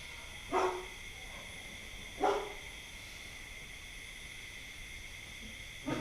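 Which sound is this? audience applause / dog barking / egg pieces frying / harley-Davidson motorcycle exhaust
dog barking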